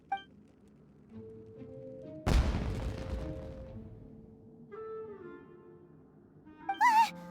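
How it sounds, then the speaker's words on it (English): A single sharp fireworks blast in Genshin Impact goes off loud and close, then trails into a long crackling decay over soft in-game music tones, with a brief bright flourish near the end. "It sounded like fireworks."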